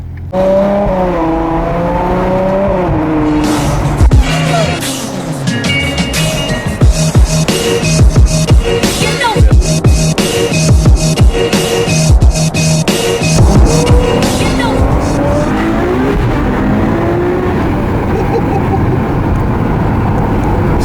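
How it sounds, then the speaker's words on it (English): Ferrari 812 Superfast driven on a public road, its loud engine revving and accelerating up through the gears with rising and falling pitch sweeps, heard from inside the car alongside occasional voices. "This is the first time I've driven the 812 Superfast on the road."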